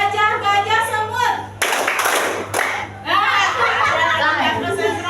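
Schoolchildren in a classroom clap hands together in a patterned clapping game, a burst of quick claps in the middle with the teacher's voice and children's chatter before and after.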